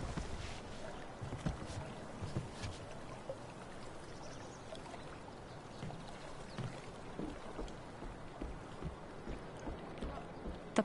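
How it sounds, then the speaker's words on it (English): A kayak glides across water in the Life is Strange game, paddle strokes splashing and dripping in a steady, gentle rhythm over a continuous watery wash. "If not for the paddling, kayaking would be super relaxing."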